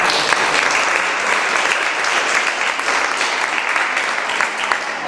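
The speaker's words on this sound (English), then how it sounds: "let's another big round of applause for going out tonight." Sustained applause from the audience at a women's empowerment summit in Mattoon, Illinois, a dense, steady wash of many hands clapping for the speakers, continuous and even throughout with faint voices mixed in.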